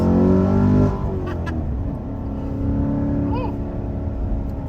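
A C7 Corvette Z51 with an LT1 engine driving at speed through sweeping turns on the Foothills Parkway, a loud engine note that eases off after the first second, then steady road and engine drone with a few faint squeaks.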